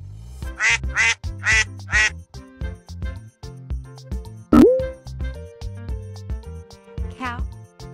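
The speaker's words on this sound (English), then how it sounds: "Duck." A duck quacks in a quick series of loud, raspy calls near the start, followed by background music and playful sound effects.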